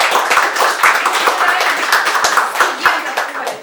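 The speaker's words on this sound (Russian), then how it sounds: "Ваши бурные аплодисменты" An audience applauds at a school concert, a loud, continuous burst of hand clapping with sharper individual claps standing out, filling the whole stretch.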